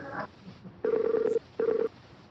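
A Skype call rings before the other person answers. Two bursts of a steady electronic ringtone come through clearly, a longer one and a shorter one with a short gap between them, and no one speaks.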